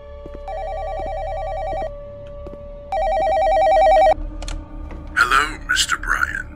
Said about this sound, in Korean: 또 전화기야?